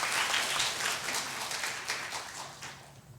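A church congregation applauds during a Sunday worship service, with a steady wash of many hands clapping close and full, fading slightly toward the end.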